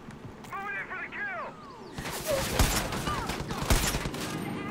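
Rapid gunfire from a heavy-kicking gun in the video game Far Cry 5 erupts midway and continues as a loud sustained burst, following a stretch of game sounds and a person talking.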